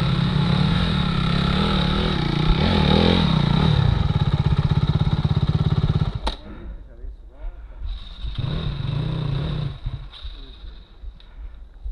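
An enduro motorcycle rides a dirt trail near Messina. Its engine drones loud and close for about six seconds, drops away briefly, then returns in a shorter burst.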